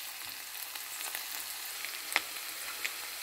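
Onions, chopped garlic and green chilies fry in a pan, giving a soft, even sizzle with a few small pops and ticks scattered through; quiet and without talk.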